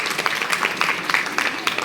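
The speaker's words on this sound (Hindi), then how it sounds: "एक बार जोरदार तालियां" A steady burst of clapping from a group of school students, continuous and fairly close, with a lively, crackling texture throughout.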